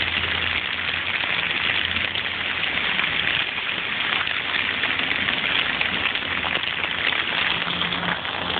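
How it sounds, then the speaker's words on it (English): Hail and rain fall steadily outside an office, a dense continuous hiss of drops on surfaces, moderately loud and unbroken, with no voices. "a little bit of hail and rain."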